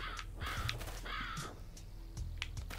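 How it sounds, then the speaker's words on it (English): Two raspy crow-like caws from a bird in the video game Yaga sound close and fairly loud, with a quieter third call near the end. "Hey, bird."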